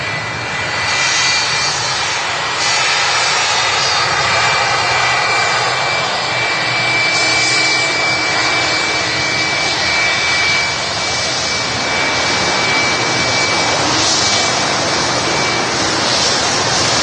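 Jet aircraft engines roar steadily at Manchester Airport, a loud, continuous broadband rumble with a faint high whine that rises and falls gently throughout, no voices present.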